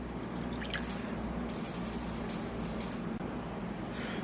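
A quarter cup of water pours close by into a bowl, a steady trickle with continuous splashing and faint drips, with no voices.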